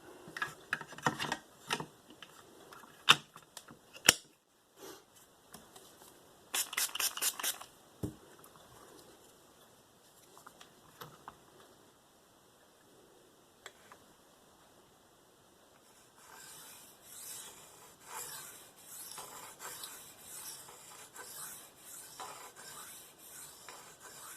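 A Spyderco Paramilitary 2 knife with an S30V steel blade is stroked across a DMT 1200 grit diamond plate, giving faint, scattered rasping scrapes in short bursts separated by quiet pauses, then a denser run of soft strokes near the end.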